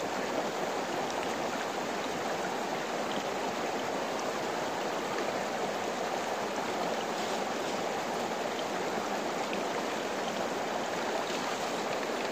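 Water rushes steadily through a small prospecting sluice in Pennsylvania, making a continuous, even wash of flowing water with no breaks.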